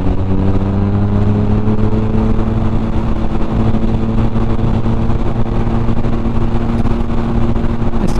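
A 1980 motorcycle, likely a Triumph, pulls away at speed on an open road in Leicestershire, a steady loud engine drone with rising harmonic tones and constant wind rush throughout, heard from close by on another bike.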